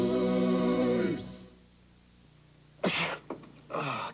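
Someone sneezes once in a cold-tablet TV commercial from 1981: a sharp, close burst, then a short pause, then a few quick breathy follow-up bursts.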